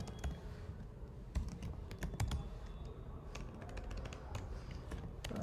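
Fingers tap out quick irregular bursts of clicks on a computer keyboard, close and fairly quiet, with short pauses between runs of keystrokes and no voices.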